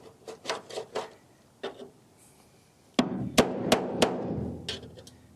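A chisel is driven into the rocker panel of a 1964 Nova SS during demolition, giving sharp repeated hammer-like metal knocks, first several spaced strikes, then a louder cluster of impacts over a heavier clatter.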